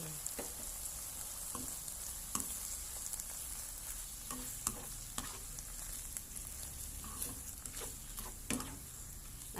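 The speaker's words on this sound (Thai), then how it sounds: "ใส่ซอสลงไปเลยจ้าซอสที่เตรียมไว้" Garlic chive flowers and fresh shrimp sizzle in a hot pan as prepared sauce goes in, a faint steady frying hiss with scattered small crackles and pops.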